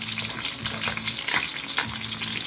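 Chopped tomatoes sizzling and frying in a hot pan while cooking sinigang na miso, with steady crackling and spattering, close and fairly loud, with occasional stirring scrapes and no voices.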